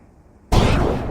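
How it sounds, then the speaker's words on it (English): A single gunshot sound effect bursts in sharply after a half second of near silence, loud and broadband, with a short ringing decay. "See why you doing gunshots there?"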